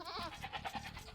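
Sheep bleat in the real-time strategy game Age of Empires II: Definitive Edition, a short run of several wavering, nasal cries close up and fairly loud, with no speech over them.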